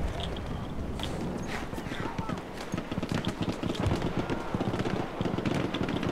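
Horse hooves clip-clop in the video game Battlefield 1, a quick run of irregular taps under a layer of game noise, fairly faint, with someone talking over parts of it.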